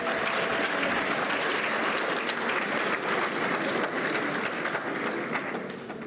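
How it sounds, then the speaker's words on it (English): Sustained, dense applause from a large crowd at a presidential announcement and swearing-in ceremony, steady and loud throughout, fading slightly at the end, with no voices. "Round of applause"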